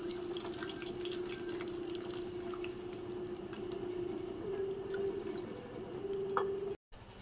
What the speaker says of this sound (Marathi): आपला जो तडका तयार झालेला आहे त्यात आपण साखर घातलेलं पाणी ॲड करत आहोत.